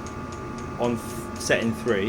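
A cheap Chinese diesel heater warming a garage, running on fan setting 3. Its steady hum continues underneath a voice speaking close by.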